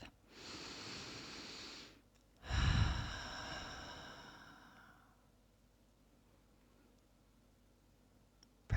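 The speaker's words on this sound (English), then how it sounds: "Take a deep breath." Slow, deep breathing during a yoga stretch flow: a long airy exhale, a brief pause, then a heavier breath that fades out gradually, close and alone with no talking.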